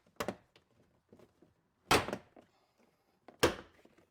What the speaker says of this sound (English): I'm going to use a pry tool to pry all along the bottom of the door panel and pull it off